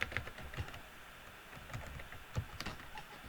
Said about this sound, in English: And then down here I would type in Awakenings